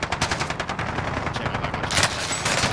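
Rapid gunfire in the Warzone battle royale game, dense bursts of automatic shots crackling in fast succession, loud and close, with a heavier blast of fire near the end.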